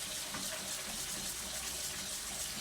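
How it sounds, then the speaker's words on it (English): Cold tap water runs steadily over freshly cooked udon noodles being rinsed in a sink, a continuous soft splashing gush with no talk. "And rinse it really well. That will stop the noodle from cooking further."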